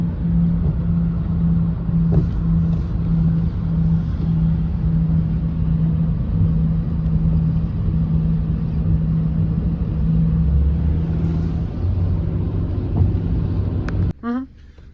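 A heavily loaded car driving on the road, a steady droning engine and tyre rumble holding throughout, loud and close from inside the cabin, ending with a brief clatter.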